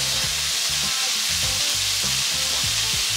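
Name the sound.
broccoli and carrots frying for Mauritian fried rice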